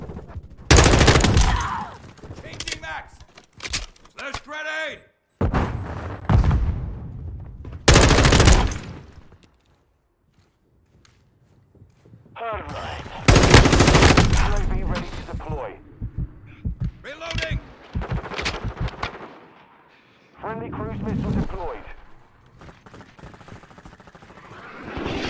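Gunfire in Call of Duty: Modern Warfare 2 multiplayer, with loud bursts of shots in several clusters separated by quieter gaps and brief silences.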